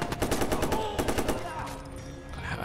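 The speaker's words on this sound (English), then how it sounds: "Actually try the machine gun again." Machine gun fire in the video game Watch Dogs Bad Blood, a rapid, evenly spaced burst of loud shots lasting over a second, then fading into a ringing tail and quieter game ambience.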